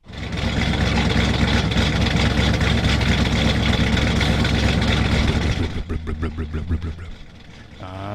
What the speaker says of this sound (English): And just listen to that idle.